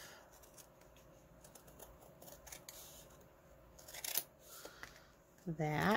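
Scissors cutting paper for DIY book pocket tags, a run of quick close snips and paper rustles, with a person talking briefly near the end.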